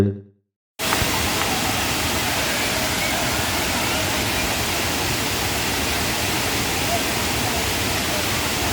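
Thirparappu waterfall on the Kothai river in Kanyakumari, dropping about 50 feet, roars loud and steady after a brief moment of silence, a dense continuous rush of falling water.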